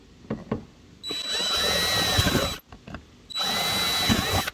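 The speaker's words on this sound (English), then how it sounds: "So I'm gonna go ahead and drill that out." A power drill bores out a hinge on a Polaris Sportsman 450-570 front storage lid, running loud and close in two sustained whining bursts separated by a brief pause, with small clicks and handling noises before the first burst.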